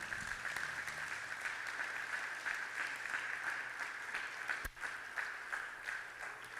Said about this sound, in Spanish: Vamos a darle un fuerte aplauso al Señor Jesús.